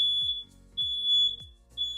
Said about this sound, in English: All right, so smoke alarms are going off.